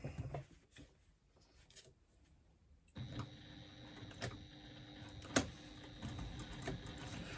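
A sewing machine top-stitching across a bag lining runs steadily at close range, a faint mechanical whir that starts about three seconds in and carries on, with a few sharper clicks.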